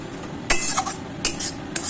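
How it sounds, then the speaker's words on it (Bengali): A utensil stirs mustard flower curry made with mustard paste, raw mustard oil and green chillies in a pan with the gas off, making about five close, crisp scraping strokes at uneven intervals, with no voices. "ভালো করে নাড়িয়ে নেব।"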